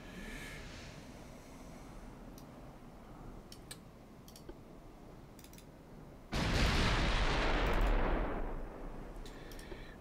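Naval guns from a dreadnought battleship fleet in a French campaign video game boom once as a loud, sudden broadside blast that rumbles and fades over a couple of seconds, after quieter ambient ticking and distant clicks.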